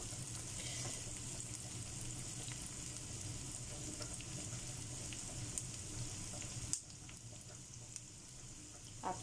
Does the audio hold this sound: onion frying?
yes